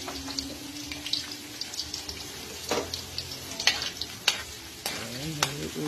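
Garlic sizzles in a clay pot, stirred now and then with sharp scraping clicks against the sides, frying steadily and close up with a faint background hiss.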